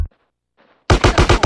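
Rapid automatic gunfire in the video game GTA San Andreas, a near, loud burst of about half a dozen quick cracks after a short near-silence.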